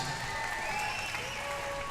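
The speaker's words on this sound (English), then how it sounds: "a big round of applause for both of these professional featherweight warriors." At the RFO Big Guns 24 fight event, a crowd applauds two professional featherweight fighters, a faint, distant wash of clapping and crowd noise with thin sustained tones running over it.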